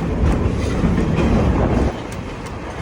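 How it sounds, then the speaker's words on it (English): A coal-fired steam locomotive, the Thomas A. Edison, hauls a passenger train with a steady loud rolling rumble and rail clatter, easing to a quieter run near the end, with some wind buffeting and no talk. "The locomotive at the head of our train today is the Thomas A. Edison. It's a coal-fired steam engine"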